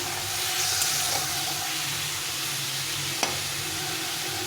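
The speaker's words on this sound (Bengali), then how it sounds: "এখন একটু জল দিয়ে দেবো দিয়ে এটাকে একটু কষিয়ে নেব" Ground spices with chilli powder and a splash of water sizzle steadily in a pan for tengra fish curry, a continuous close hiss with a brief clink partway through.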